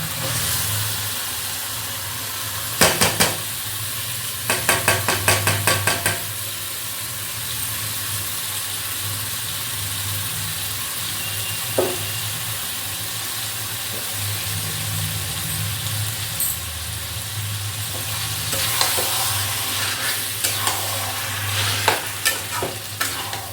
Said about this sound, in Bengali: এবার এই ম্যারিনেট করা চিকেনটা আমি এর মধ্যে দিয়ে দেবো